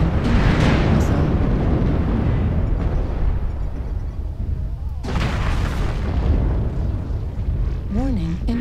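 Heavy booming explosions from incoming missiles in a mech combat video game, dense and continuous, with a synthetic voice and rising electronic tones near the end.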